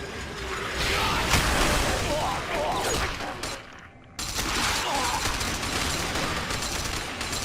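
Gunfire from the video game Hounds: The Last Hope, with bullets ricocheting: sharp bursts of shots and metallic pings under a steady rush of game noise, a brief dropout near the middle, then the firing resumes.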